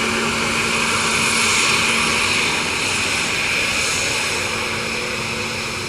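Ryanair airliner out of Liverpool passing over Dublin Airport on a rainy day, a steady loud jet roar with hiss holding evenly across the whole stretch, no voices.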